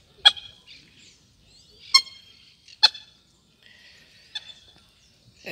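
Ducks calling at a lagoon, a family group with ducklings; a few short, separate squawking calls at moderate distance, spaced about a second apart, with quiet gaps between.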